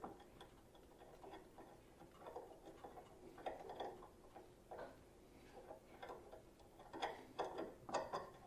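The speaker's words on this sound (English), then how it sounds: "Reach in here and get these bolts out. Get this bolt out." A ratchet works engine bolts loose on a GM 3.6L V6 in an Acadia or Traverse SUV, bursts of quiet close clicking with short pauses and small metallic knocks in between.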